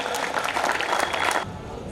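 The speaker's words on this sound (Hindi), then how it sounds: "उसके कद की तालियां बजा दीजिएगा" A crowd at a Hindi poetry gathering (kavi sammelan) in Vidisha bursts into brisk applause for a poet, dense clapping that holds strong for about a second and a half, then cuts off into quiet room tone.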